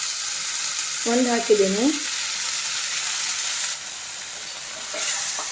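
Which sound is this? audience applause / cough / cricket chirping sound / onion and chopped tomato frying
onion and chopped tomato frying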